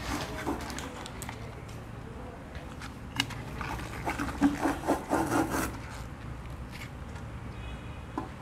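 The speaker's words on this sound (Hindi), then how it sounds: "स्मॉल क्लीनिंग ब्रश से अब अंदर का साफ कर लेंगे।" A small cleaning brush scrubs the inside of a water dispenser, giving steady close scratchy rubbing strokes that grow busier and louder midway, with faint background noise and occasional light knocks.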